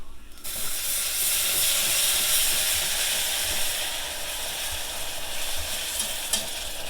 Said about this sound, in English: we're going to go ahead and put our broth in